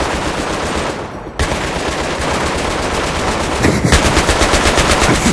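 Sustained machine gun fire in a Battlefield 3 co-op mission, loud and close, with rapid bursts that break off briefly and then resume in a dense rattling stream to the end.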